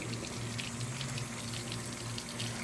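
Steady water rushing and splashing as a Tracker Pro 170 boat motor is flushed with fresh water, a continuous low gurgling wash with no talk over it.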